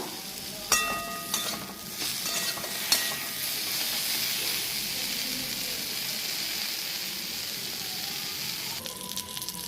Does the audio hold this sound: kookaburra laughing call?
no